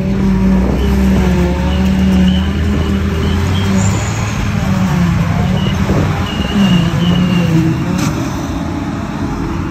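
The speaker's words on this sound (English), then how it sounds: "Driving the harvester. I used to always drive the harvester" A farm harvester's engine drones steadily and loudly from inside the cab during silage cutting, with a constant low mechanical hum and occasional shifting tones throughout.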